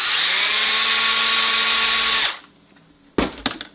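A power drill spins up loudly and runs at a steady high whine for about two seconds while starting holes through a metal strip used as a template for a replacement NuTone transformer. It then winds down and stops, followed by a few short knocks and clatters.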